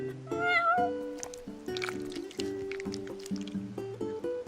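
A cat meows in the video game Final Fantasy XV, several clear tonal meows close up over a soft musical background.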